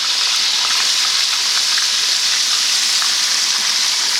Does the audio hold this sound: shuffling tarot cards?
no